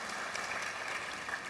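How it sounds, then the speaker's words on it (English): Faint, distant applause from delegates at a formal session for two commissioners, a soft, even wash of clapping heard quietly throughout. "They deserve a round of applause, Commissioner Derso and Commissioner Topsy Sono"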